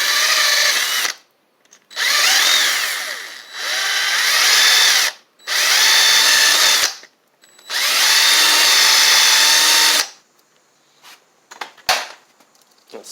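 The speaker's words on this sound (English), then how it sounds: "Let me see if I can find a drill bit." A power drill bores out a hole with a bit during service of a John Deere LA115 lawn tractor, running in five loud bursts of a few seconds each with brief pauses between, then quiet clicks.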